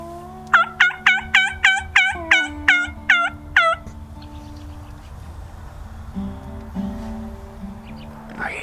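Wild turkeys gobbling in a Manitoba field during spring, a rapid run of about nine loud, rattling gobbles close by, followed by quieter, softer calls and faint field ambience.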